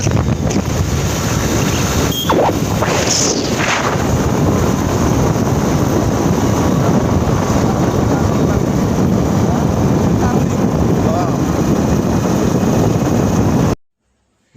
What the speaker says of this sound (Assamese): মানে এই গৰমত বাইকত উঠি যে হাৱাটো যে মাৰে বহুত ভাল লাগে